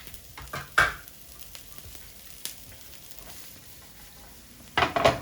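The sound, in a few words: sauteing diced onion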